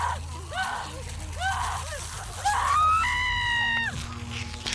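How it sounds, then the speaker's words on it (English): A woman's choked, strangled screams in a horror podcast, rising in repeated anguished bursts before a long, sustained shriek that cuts off abruptly. "She let out more and more choked screams as the tension built up in the midsection."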